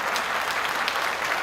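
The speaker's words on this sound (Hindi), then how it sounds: "भाई तुम भी देखते हो, ताली बजा रहे हो तो जोर से बजा लो" An audience at a televised conclave event applauds, dense steady clapping from many hands that fills the room, continuous and fairly loud.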